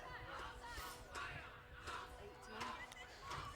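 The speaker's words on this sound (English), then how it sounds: "you might be able to hear the BALI Island School boys cheering behind the girls' bench" School boys cheer behind the girls' bench at a girls' soccer final, their crowd shouts rising in several loud bursts over steady background chatter and hubbub.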